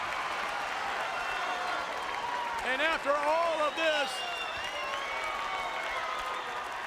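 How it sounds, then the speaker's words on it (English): Capacity arena crowd at the 1995 Royal Rumble WWE title wrestling match applauding steadily, a broad wash of clapping that runs throughout beneath someone commentator talking. "what an ovation here by this capacity crowd"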